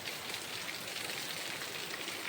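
Rain falls steadily on a rural village, a dense, even hiss of drops on surfaces that continues without a break, moderately loud, with no voices.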